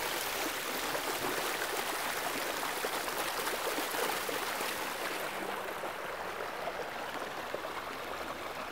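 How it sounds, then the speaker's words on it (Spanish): Waterfall and flowing water of the Lonia river in Galicia, a steady broadband rush of falling and running water that fills the scene, close and continuous with no voices. "Bueno, este es el río Lonia. Miren la cascada, el río."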